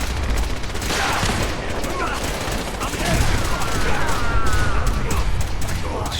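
A loud fusillade from the video game Fallout 4, with shots ringing out from all directions in a dense, continuous barrage mixed with clanking impacts.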